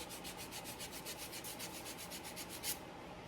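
Someone lightly sands a burnt cut edge left by a cut-off tool with quick, even back-and-forth strokes. The close, soft, rhythmic rasping stops after about three seconds.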